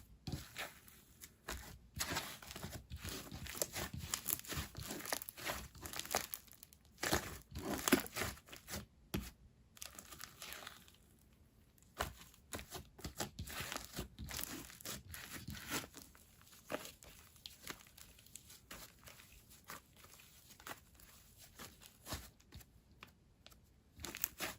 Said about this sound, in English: It's also very clicky. I'm enjoying all the sound it makes a lot.